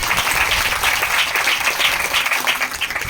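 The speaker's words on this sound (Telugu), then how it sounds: "చప్పట్లు కొట్టండి గట్టిగా." A congregation at a church inauguration service claps loudly together, a thick, continuous wave of applause filling the hall up close from start to finish.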